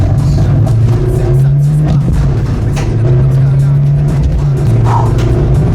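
A Citroën C15 engine drones steadily from inside the car while being driven hard, its low hum rising and falling slightly through gear changes, with faint voices in the background.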